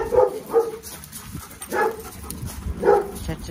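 A dog gives a few loud, close barks and short whimpering yips, spaced in three bursts across a few seconds with quiet room noise between.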